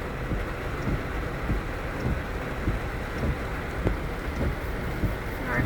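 Steady rain falling outdoors during a thunderstorm, a dense even hiss of drops on the ground with faint patters throughout and no clear thunder.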